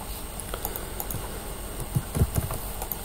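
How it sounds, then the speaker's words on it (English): Keys clatter on a computer keyboard as a Bitcoin private key is entered, a light irregular patter of taps, close and fairly quiet, over a steady background hum with no voices. "And I'm going to type it here."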